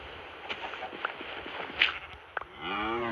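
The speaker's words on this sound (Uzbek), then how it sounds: "Faqat sigir chiqyapti." A cow moos in the Minecraft One Block game, a low drawn-out call over quiet game ambience, with light stepping sounds and a soft click before it.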